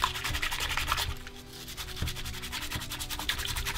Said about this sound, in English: I've been using these little sandpaper pads to scrub them